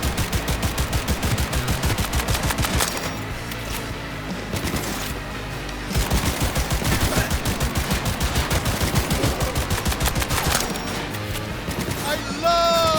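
Rapid bursts of automatic gunfire in Cyberpunk 2077 crackle in fast rhythmic volleys, pausing briefly and resuming, layered over game music and occasional talk.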